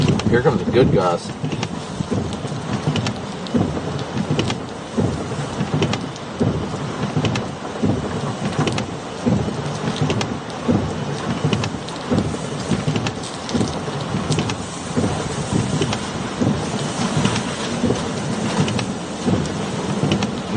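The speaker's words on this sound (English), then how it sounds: "Here comes a good gust." Loud, gusty hurricane wind during Hurricane Helene's landfall roars with heavy rain hissing underneath, surging in waves without pause for the whole stretch.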